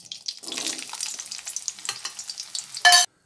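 Potato pieces fry in oil with a close sizzle and stirring scrapes that rise and fall unevenly, ending in a brief louder burst before cutting off.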